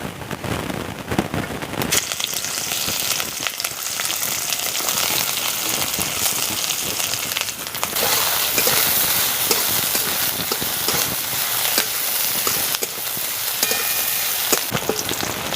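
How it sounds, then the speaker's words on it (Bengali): Chopped onion, green chilli, garlic and ginger fry together in hot oil, a loud, steady sizzle that swells after a quieter start and carries on with occasional stirring scrapes. "এখন সব মশলাগুলো হাফ ভাজা হয়ে গেছে।"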